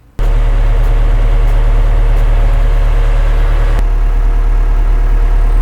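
A Trackless MT7 tractor engine idling close by, a steady low diesel rumble that starts abruptly and runs evenly to the end.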